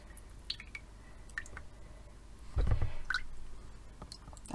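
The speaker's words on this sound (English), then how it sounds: "Just tilt it carefully so the water drains slowly and the paper doesn't all move to one end." Water drips and drains from a paper-making mould as it is tilted, giving scattered light drips and then a brief, louder gush of trickling runoff midway, with no voices.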